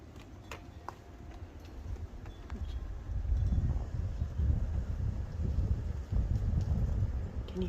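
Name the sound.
wind blowing outdoors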